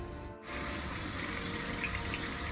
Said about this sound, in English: So I'm washing the rice in a strainer, right?